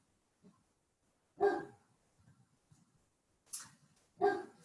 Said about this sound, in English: That's when my dog's barking.